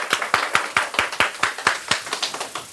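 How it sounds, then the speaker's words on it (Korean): Parents at a middle school admissions briefing in a Korean math academy clap in a sparse, uneven rhythm, each sharp hand strike distinct and close, with no talking over it. "박수 한번 쳐주세요."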